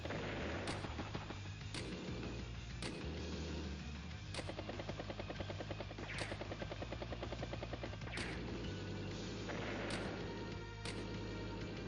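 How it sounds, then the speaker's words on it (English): A recon unit fires on a battlecopter in Advance Wars: Days of Ruin: a steady helicopter rotor drone runs throughout, with repeated bursts of gunfire punctuating it at roughly regular intervals. "Recon does strike the battlecopter for decent damage."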